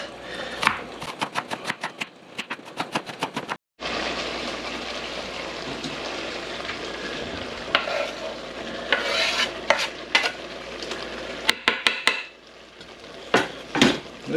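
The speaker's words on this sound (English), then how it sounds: "Okay, get that stirred up a bit more." Onions and chicken stirred in a sizzling pan, a utensil clanking rhythmically against the pan in quick taps, then a steady close frying hiss with scraping, and more clanks near the end.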